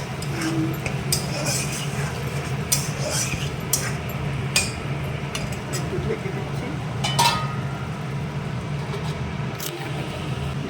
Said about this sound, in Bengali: এখন কষানো হবে